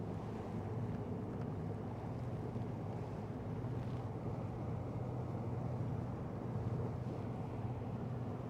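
A bass fishing boat cruises slowly through shallow water on Lake Guntersville, with a steady, low rumbling hum and broad wash of water and wind noise throughout, no talking.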